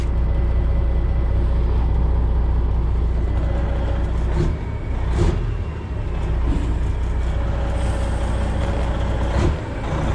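A Freightliner Classic truck pulling out onto the road, its heavy diesel rumble steady and close with brief mechanical clunks and air-release hisses, and no voices.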